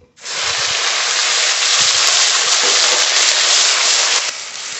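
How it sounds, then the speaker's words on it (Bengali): Onion paste frying in hot oil with dried chilli, bay leaf, cardamom and cinnamon, a loud, steady sizzling hiss that runs unbroken from start to finish. "পেঁয়াজের পেস্টটা একটু ভালো করে ভেজে নেব।"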